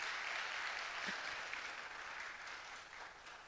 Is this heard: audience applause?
yes